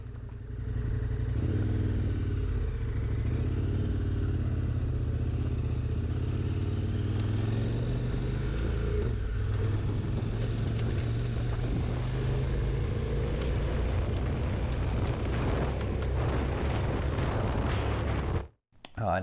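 A KTM 1190 Adventure R motorcycle ridden along a road, its engine a loud, steady low drone with wind rush, continuous for most of the stretch before cutting off abruptly near the end.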